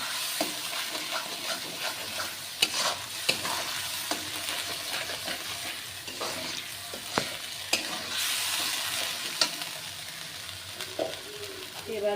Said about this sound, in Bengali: আর একটু ভালো করে কষতে হবে মশলাটা।